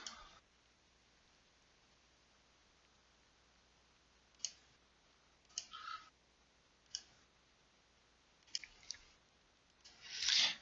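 Scattered computer mouse clicks during software navigation, a handful of sharp, quiet single clicks spaced a second or more apart over faint room hiss, ending in a slightly longer rustle.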